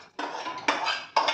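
Metal clatter of sheera being put back into a steel kadhai, three distinct scraping, clanking bursts in quick succession, close and fairly loud.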